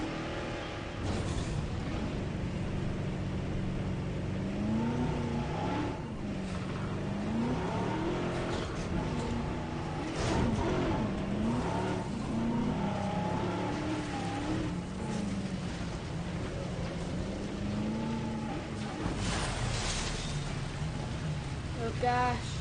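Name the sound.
vehicle engine while racing in the video game Jurassic World Evolution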